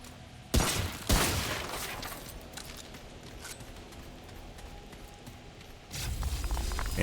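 A couple of sharp, loud assault rifle bursts near the start of a Remnant: From The Ashes game scene, followed by a quieter stretch of footsteps and ambience, then another loud burst near the end.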